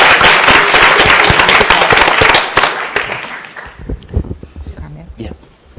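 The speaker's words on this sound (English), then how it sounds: "So if we could please give them applause for their work." Loud, crackling applause from attendees at a city school board meeting, many sharp claps that fade out over the final seconds into quieter room noise.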